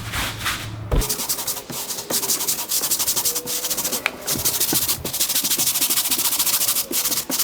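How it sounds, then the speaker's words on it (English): A stiff bristle brush scrubs shaving cream into boat carpet, making steady, close scratchy rubbing strokes with brief pauses, fairly loud and continuous with no talk. "take your stiff bristle brush and just work it into the carpet"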